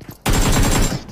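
Rapid automatic gunfire in a mobile shooter game bursts out loud and dense after a brief quiet moment, a continuous rattling volley of shots.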